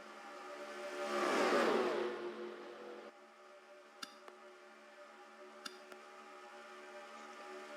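Stock cars racing in a NASCAR video game at Daytona during the Daytona 500 roar past in a swelling rush, then settle into a steady droning engine hum with a couple of faint ticks.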